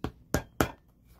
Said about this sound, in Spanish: Y se martilla para que la tapa quede otra vez bien.